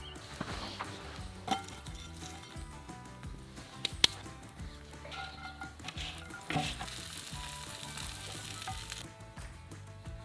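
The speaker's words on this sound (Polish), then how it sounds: "Chociaż sobie cebulkę uprażę" Onions frying outdoors, a soft continuous sizzle with scattered clinks and scrapes of stirring, moderately quiet throughout.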